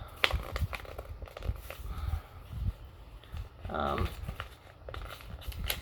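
Paper being folded and creased by hand to make a puppet, giving crinkling and rustling bursts scattered through the stretch while a person talks over it.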